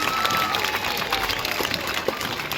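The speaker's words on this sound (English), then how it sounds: "everyone give it one last cheer to say well done" Audience at a sea lion show cheering and applauding together, a dense steady wash of clapping and voices that holds for the whole stretch at close, even volume.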